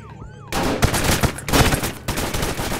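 Rapid, loud gunfire in the Roblox game Maple County, a dense burst of repeated shots that begins abruptly after a brief quiet moment and continues in near-continuous volleys with short breaks.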